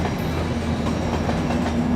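A train rumbles steadily alongside a platform at Newcastle station, with a low continuous hum and faint clatter of wheels throughout.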